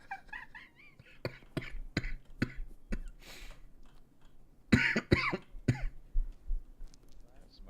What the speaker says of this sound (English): Smoker's cough there, sir.